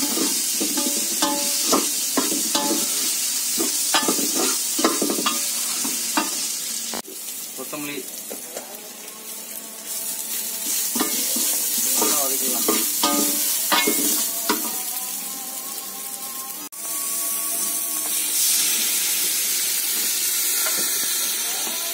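Ground ginger-garlic paste fries in a large pot of village-style biryani and is stirred repeatedly, making a loud hiss of steam and sizzle punctuated by rhythmic scraping strokes.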